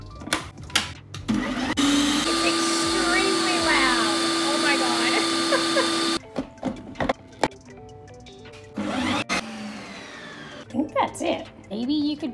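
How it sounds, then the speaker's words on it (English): A Ninja Creami ice cream maker spins a rock-hard frozen protein smoothie, a loud steady whirring grind that lasts several seconds, framed by clatter and short bursts of talk before and after. "Let's make our first ninja creamy."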